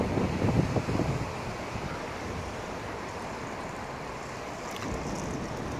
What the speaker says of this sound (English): You can see the ferry just coming in now